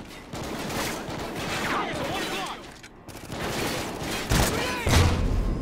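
Busy gunfire and explosions from the Call of Duty: Ghosts video game on PC, with a grenade launcher in use, forming a dense continuous battle din with heavier thumps near the end.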